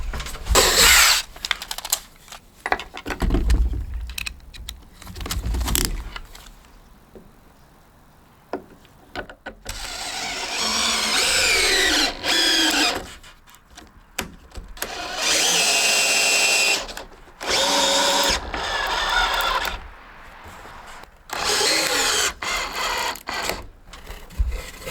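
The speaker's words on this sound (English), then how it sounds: "Let's pre-drill it a little bit." A power drill pre-drills holes in wood for the legs of a salvaged trailer roof frame, running in several loud bursts of a few seconds each, separated by pauses with quiet handling noise.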